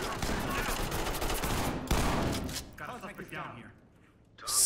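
Uzi gunfire in the video game Ready or Not, loud rapid bursts of automatic shots filling the first few seconds, then dying away into quieter game sounds and a final sharp noise.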